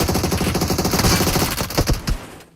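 Rapid automatic gunfire from PUBG Mobile, a battle royale game, in a near, loud sustained burst of shots that cuts off near the end.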